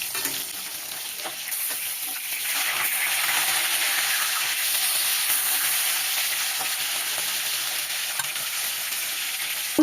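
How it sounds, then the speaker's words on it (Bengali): Flipped katla fish pieces crackle in hot oil in a kadai, a close, continuous sizzle that swells slightly midway, with occasional stirring clicks and no speech. "মাছ লাল লাল করে ভেজে নিয়েছি,"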